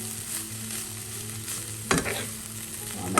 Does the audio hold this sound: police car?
no